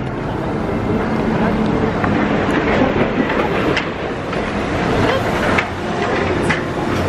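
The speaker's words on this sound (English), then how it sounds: "Monorail." A Disney monorail train passes by outdoors on a bright morning, a steady broadband rumble and rush with faint clatter running the whole time at close range, with people talking nearby.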